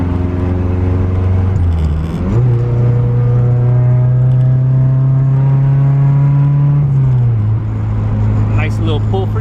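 A car engine pulls hard from inside the cabin, its steady drone climbing in pitch, briefly dropping at a gear shift near two seconds, climbing again, then dipping at another shift; loud and close, with no talk.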